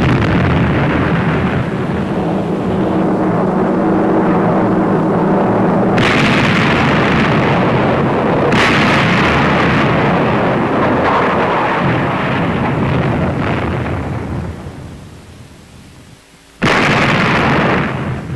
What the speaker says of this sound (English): It's when the guns are firing efficiently, like this